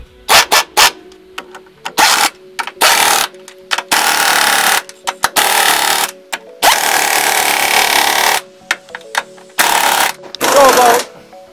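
Impact wrench on the upper strut mount nuts of a Dodge Challenger during an upper ball joint replacement, firing in short loud hammering bursts with gaps between them, and a voice speaks briefly at points.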